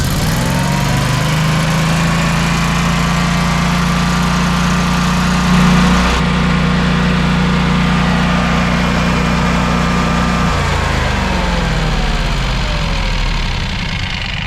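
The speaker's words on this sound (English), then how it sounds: "we're going to start the generator up" A Generac home standby generator engine runs in manual mode at a steady, loud idle, with a constant low hum and an even mechanical drone that holds throughout, a slight shift in tone midway, and no voices.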